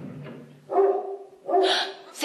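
A neighbour's dog barks in a stairwell, two loud harmonic barks separated by a pause, fairly close, with a fainter sound before them and no talk.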